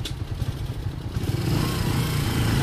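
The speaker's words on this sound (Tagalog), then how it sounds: "Oh, may motor." A motorcycle engine rumbles nearby, its low growl building louder toward the end as it passes close.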